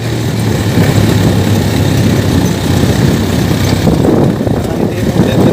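A farm motor engine runs steadily in first gear, a loud, continuous low rumble close to the microphone with no pauses.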